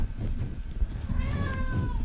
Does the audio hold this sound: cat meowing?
yes